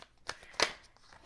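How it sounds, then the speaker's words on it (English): Tarot cards are shuffled by hand in a few quick riffling bursts. Two sharp, crisp flutters come close together, with a faint rustle between them and no talking. "Still shuffling."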